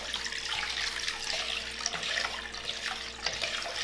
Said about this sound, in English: If you want it to be lighter, then you add more water.